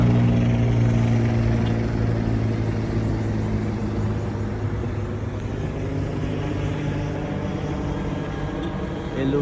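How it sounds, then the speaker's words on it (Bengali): A helicopter passes over Abu Dhabi on a foggy morning, its engine and rotor drone steady, loud and unbroken throughout. "পরে হেলিকপ্টার যাচ্ছে, কিছু দেখা যাচ্ছে না।"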